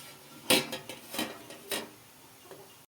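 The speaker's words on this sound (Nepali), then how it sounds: "यो अन्डालाई यहाँ भाँडामा राख्दैछु।" A boiled egg is set down into a dish, producing a few close, bright clinks and knocks of egg and utensil against the vessel, spaced over a few seconds before falling quiet.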